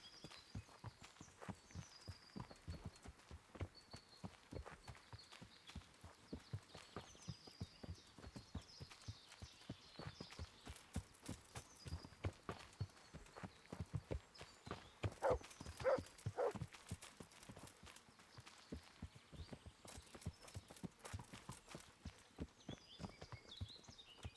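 Steady, rhythmic clip-clop of horse hooves from a ride in the medieval video game Kingdom Come: Deliverance, heading out on a hunt. The hoofbeats are fairly quiet, even and continuous throughout, with no talk over them.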